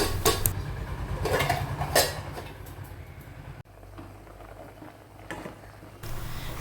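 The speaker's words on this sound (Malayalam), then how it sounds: "ഇനി ഈ പഴം ഈ തേങ്ങാ പാൽ കിടന്നൊന്ന് തിളച്ച് വെന്ത് വരണം" Banana pieces simmer in coconut milk in a pan on a home stove, giving a steady bubbling hiss with a low rumble beneath and a few close metallic clinks of utensils early on, with no speech.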